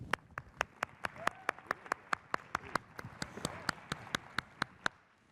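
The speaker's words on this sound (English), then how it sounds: "Let's keep the applause going" Slow, evenly spaced claps at a startup pitch competition on Parliament Hill, about twenty distinct sharp hits in a steady rhythm, fairly faint, with soft murmuring beneath.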